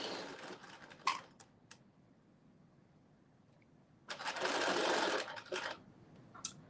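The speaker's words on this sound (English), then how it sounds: "So I'm putting in my zigzag stitch." A sewing machine running a zigzag stitch for a cut-out maxi dress: a brief whir early on, then a steady close mechanical run of about a second and a half, ending in short bursts.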